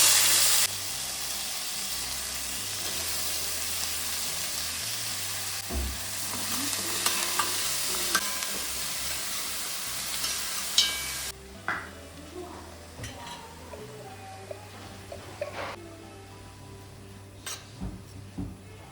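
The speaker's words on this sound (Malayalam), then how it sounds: "വെളിച്ചെണ്ണ ചൂടായി വരുമ്പം സവാള ഇട്ട് കൊടുക്കുക." Onions and shallots fry in hot coconut oil in an uruli, giving a loud, dense sizzle for the first stretch that then drops to a quieter simmer broken by scattered clicks and utensil knocks.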